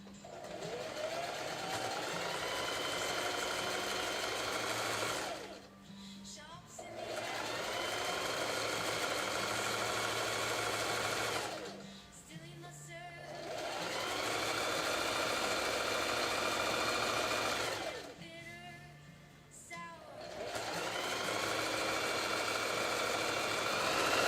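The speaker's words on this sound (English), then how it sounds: "reinforce all of your seams by sewing back over them" A sewing machine runs in long steady bursts while reinforcing pant seams by stitching back over them, its motor whirring loudly and continuously with three short pauses between passes.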